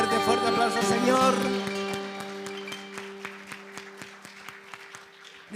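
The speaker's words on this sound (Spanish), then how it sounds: "Dale un fuerte aplauso al Señor." Congregation applause at a church service, starting dense over lingering organ-like sustained tones from worship music, then thinning to scattered individual claps that fade out.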